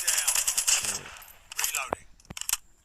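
Gunfire from the QQ3 gun in the video game Call of Duty Mobile: a rapid, bright automatic burst, then a pause and a few isolated sharp shots and clicks, loud and close.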